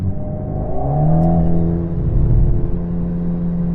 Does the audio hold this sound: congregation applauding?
no